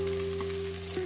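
Chowmein noodles fry lightly in a pan with a steady, close sizzle that holds evenly throughout, over a faint constant hum.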